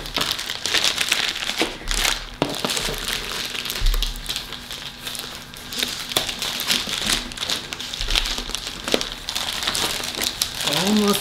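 Paper crinkles and rustles in repeated bursts as a monthly subscription box is unwrapped close by, with soft crackling handling sounds throughout.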